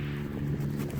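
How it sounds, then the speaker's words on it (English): Cars passing on a road near a campsite give a steady low rumble with a broad wind-like wash, continuous and moderately loud for the whole second. "Cars going by."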